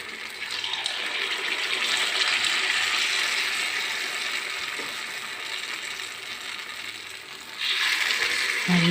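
Unniyappam batter made with rava and banana fries in oil in an appam pan, giving a close, steady crackling sizzle that swells louder near the end.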